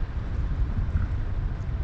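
Steady, heavy wind roars across the microphone without a break while paragliding on a windy morning over Fethiye, Turkey, a dense low rumble like rushing air at altitude.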